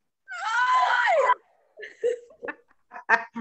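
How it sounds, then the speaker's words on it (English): An audience at a team meeting screams with excitement in one loud burst of about a second, followed by scattered laughter and giggles. "You can scream, I'll let you."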